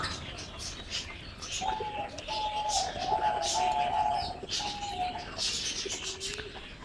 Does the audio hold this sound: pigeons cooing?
yes